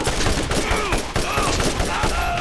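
Gunfire in the video game Borderlands: dense rapid bursts of shots overlapping continuously over a loud, busy game soundscape, close and steady.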